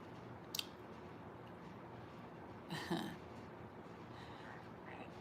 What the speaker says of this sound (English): I just burped, but some of you could have heard it just now